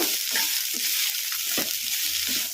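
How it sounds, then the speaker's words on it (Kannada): Garlic being stirred into fried mint leaves and green chillies in a pan after the stove is switched off, heard as a steady close sizzle with several soft scraping stir strokes, no voices. "ಈಗ ಇದಕ್ಕೆ ಬೆಳ್ಳುಳ್ಳಿ ಹಾಕೋಣ ಕಲಿಸ್ಕೊಂಬಿಡೋಣ"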